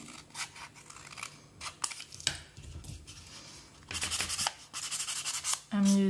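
Paper being trimmed for small junk journal tags, with scattered scissor snips and rubbing, scraping handling noises, quiet and close, turning busier and denser toward the end.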